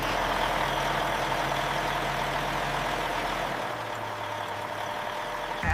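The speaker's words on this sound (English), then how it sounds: "Powerful and durable diesel engine." A 2027 Ram Power Wagon heavy-duty diesel truck idles with a steady, close low rumble and faint whine, the tone dropping slightly partway through, with no talking.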